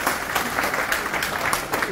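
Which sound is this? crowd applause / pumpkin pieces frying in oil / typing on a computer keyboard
crowd applause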